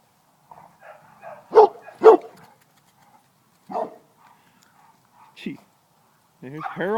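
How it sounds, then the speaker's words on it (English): Dogs yip and bark in short separate bursts outdoors, a couple of close barks followed by scattered softer ones, with a whimpering whine near the end. "Doggies are all having a good time."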